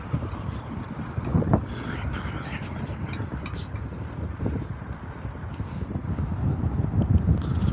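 Steady wind buffeting rumbles against a microphone on a windy night in Guelph, loud and continuous with gusty swells.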